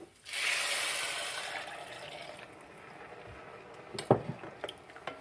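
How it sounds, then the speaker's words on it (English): Stock poured into a pot of lentil soup, a steady splashing liquid pour for about two seconds that thins out, followed by a few light clinks of metal against the pot. "And in goes the stock."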